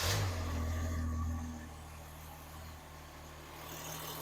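A Holden HJ wagon engine idles steadily in park, a low, even rumble that stays close and constant, with a brief heavier surge at the start before settling.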